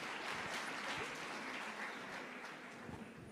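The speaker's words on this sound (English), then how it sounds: "A round of applause to all the winners that have just walked on this stage." Audience applause at a student awards ceremony, steady broadband clapping spread across a hall, sustained at moderate level throughout with no voices.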